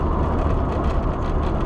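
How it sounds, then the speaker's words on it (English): A Lamborghini Jalpa drives past on a London to Brighton classic car run, giving a loud, close, rumbling engine roar that holds steady through the brief moment. "Lamborghini Jalpa. That sounded good."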